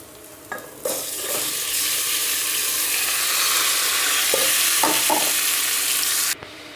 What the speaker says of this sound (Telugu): మ్యాగ్నేట్ చేసి పెట్టుకున్న చికెన్ ఏదైతే ఉందో దాన్ని దీంట్లో వేసి